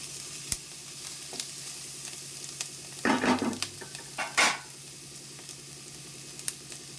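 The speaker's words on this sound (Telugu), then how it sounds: "ఇప్పుడు దంచి పెట్టుకున్న తెల్లగడ్డలు, ఇదిగోండి గార్లిక్, ఇది కొంచెం ఫ్రై అవనిద్దాం." Crushed garlic hits hot oil with browned onions in a pan for a goruchikkudu (cluster bean) fry, giving a steady soft sizzle with a couple of louder bursts of spatter and stirring midway, no voices.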